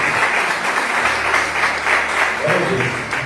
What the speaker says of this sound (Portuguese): Uma salva de palmas para o irmão.